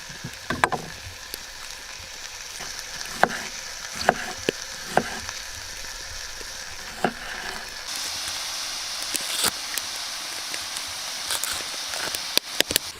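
Moose meat frying in a pan with cut red onion at a cabin keeps up a steady crackling sizzle, broken by sharp clinks and scrapes as it is stirred. No one speaks.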